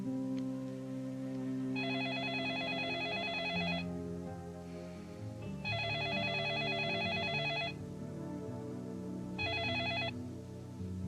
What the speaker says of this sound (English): Mrs. Walsh, there's someone on the phone